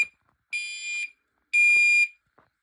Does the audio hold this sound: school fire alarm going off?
yes